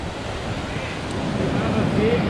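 Roaring whitewater at a class 3 ledge on an icy, raging river during a canoe trip, a steady broadband rush that holds loud and constant throughout, with no voices over it.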